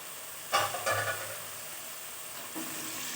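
Chopped green chili and drumstick pieces drop into hot oil in a pan for a choora fish curry, giving a few quiet bursts of sizzling over a soft, steady frying hiss.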